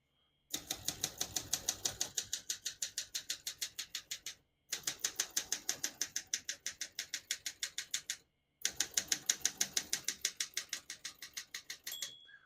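Rapid rhythmic clacking of typewriter keys on a 1974 Olympia SM9 portable typewriter in three long runs separated by short pauses, crisp and close, with a faint margin bell near the end.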